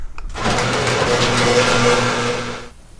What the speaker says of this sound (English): So I'm going to close up the garage.